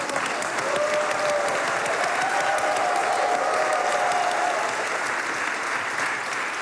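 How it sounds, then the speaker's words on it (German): Audience applause at a New Year's Eve stage comedy show: dense, steady clapping from a large crowd fills the whole stretch at even loudness, with a faint sustained tone under it and no talk. "Applaus"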